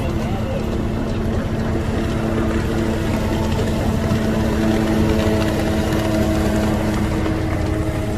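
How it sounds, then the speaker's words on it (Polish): A motorboat engine drones steadily on open water, a loud continuous rumble with tonal hum that holds throughout as the boat heads toward the listener. "Następny motorówką. Zobacz jak jedzie prosto na nas."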